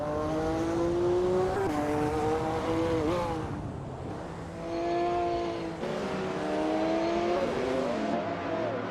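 Racing car engines roar continuously in a video game race featuring a 1995 McLaren F1 LM, loud rising and falling engine tones shifting pitch through gear changes, close and steady with no talk.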